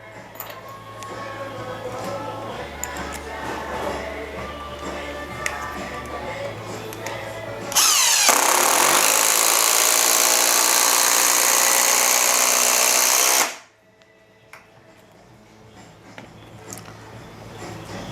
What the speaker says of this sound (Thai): ตอนขันสกูครั้งแรกนะครับ มันจะหมุนด้วยความเร็วที่ต่ำก่อนนะครับ จากนั้นก็จะเริ่ม ทำความเร็วสูงขึ้นสูงขึ้นนะครับ